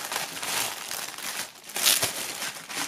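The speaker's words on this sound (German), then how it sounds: "nachdem hier eine Sache noch in Folie ist, nämlich die Kopfbedeckung, holen wir die gleich mal raus" Thin plastic foil wrapping is peeled and crinkled off headwear packed in a metal band's album box set, making close, crackling rustles in two busy bursts with a brief pause between them.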